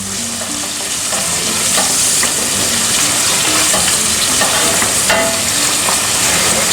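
Okra frying and being stirred in a pan for Egyptian bamya, a steady close sizzle with scraping stir strokes and occasional sharp pops throughout.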